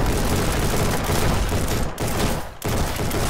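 Sustained gunfire in Ancient Warfare 3 during a beach assault: a loud, dense fusillade of rapid shots that rolls on almost without pause, broken by two short gaps.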